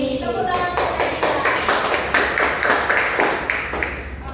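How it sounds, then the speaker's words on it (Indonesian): An elementary-school class claps for a pupil during an Indonesian language lesson: a rhythmic, evenly spaced patterned clap repeated several times, close and moderately loud, following a brief spoken word at the start. "Tepuk tangan untuk Nadila."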